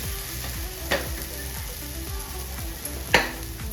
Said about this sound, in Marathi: वरून पण थोडंसं तेल टाकून घेऊ बारीक गॅसवरती चांगला पराठा आपल्याला